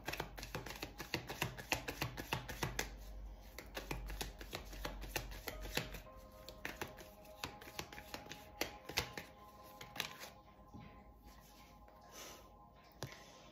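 Tarot cards handled, shuffled and laid down on a table during a reading, with a steady run of quiet papery taps, slides and small clicks close by at low volume, and no talk.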